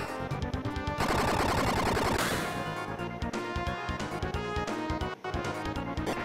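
Rapid machine-gun fire from an Uzi Punch attack in a Penny Arcade video game, loud, dense bursts of shots rattling almost without pause, with a brief dip near the end.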